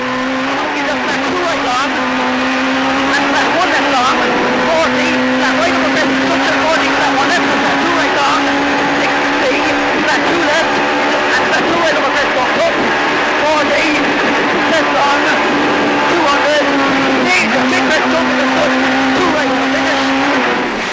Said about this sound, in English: The Chris Birkbeck run 1600cc Puma is an exciting machine